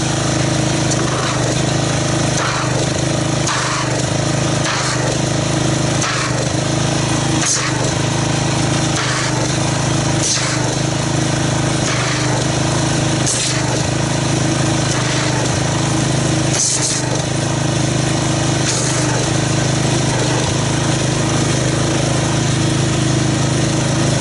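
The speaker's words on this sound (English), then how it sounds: "let's get our pressure washer, agitate this, and see what kind of foam we get" A pressure washer engine drones loudly and continuously nearby, its spray churning car soap with carnauba beads in a bucket, with irregular knocks and splashes throughout.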